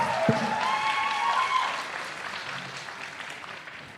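An audience at an esports grand finals event claps and cheers after an opening stage performance, a broad wash of applause with the fading tail of music at the start, easing gradually in volume.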